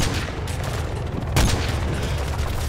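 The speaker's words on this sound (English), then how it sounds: "We're taking fire!" Sustained gunfire in a Call of Duty Modern Warfare 3 Berlin firefight, a dense continuous rattle of shots with a heavier boom about halfway through, loud and close.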